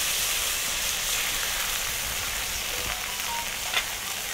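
A paste of ground cashew, poppy seed and melon seed with tomato, sugar and spices fries in oil for a vegetarian cauliflower roast, giving a steady, close sizzle and hiss with a few faint scrapes of stirring.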